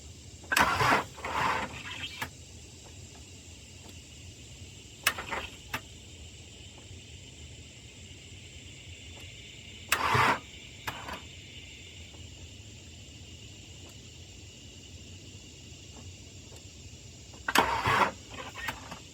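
A car with a weak starter cranks over in four short, labored bursts separated by long pauses, loud and close, with a faint steady hum between attempts.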